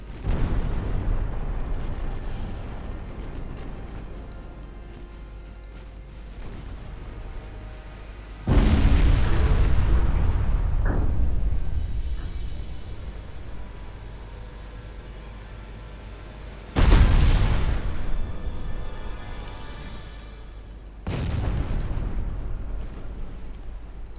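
Naval artillery in Ultimate Admiral Dreadnoughts: three deep, booming salvos with shell hits roll out several seconds apart, each with a long rumbling decay, over a low steady background.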